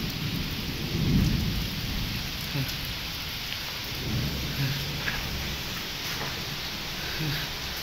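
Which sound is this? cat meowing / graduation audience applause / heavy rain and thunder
heavy rain and thunder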